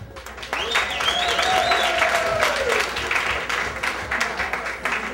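Comedy club audience at a stand-up show breaks into applause, a loud sustained burst of clapping with a few whoops, lasting several seconds before tapering.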